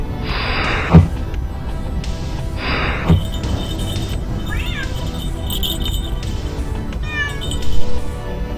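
A cat meows loudly and close by, several separate drawn-out cries spaced a couple of seconds apart, over a background of electronic game sounds and beeps.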